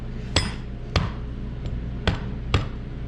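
Sharp metal-on-metal mallet strikes against a Buell motorcycle kick start assembly, five distinct, fairly loud blows spaced about half a second apart over a steady low background hum.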